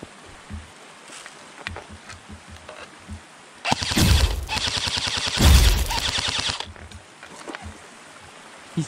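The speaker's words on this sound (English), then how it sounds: "they're shooting at me from right here" Rapid bursts of gunfire from a video game shooter set in snowy, wooded terrain come through loud and close, with two dense volleys standing out over quieter background game noise.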